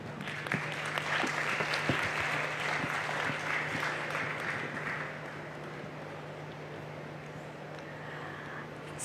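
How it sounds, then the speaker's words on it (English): A crowd at a fashion design challenge event breaks into sustained applause, a dense wash of clapping that holds steady, then slowly thins out, heard at moderate distance over a low steady hum. "Please, may we have a round of applause."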